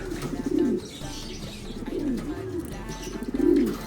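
Caged pigeons coo close by in repeated low, throaty phrases, about three rounds, over a faint background hum.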